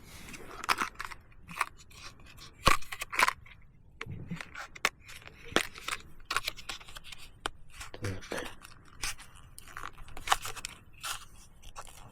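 Plastic packaging of two 10-gram Golden Catch spoon lures being opened by hand: a run of crisp crackles, snaps and rustles at close range, irregular and fairly quiet, with no speech.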